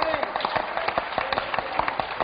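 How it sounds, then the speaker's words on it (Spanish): A church congregation claps during a sermon, rapid scattered handclaps in a steady patter, with speech over it. "Un aplauso para ese Dios"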